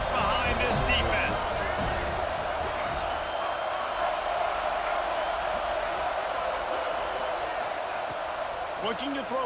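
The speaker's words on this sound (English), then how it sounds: "Big third down as the crowd gets behind this defense." A stadium crowd roaring for the defense on a third down at a football game, a dense, continuous wash of cheering that holds steady throughout.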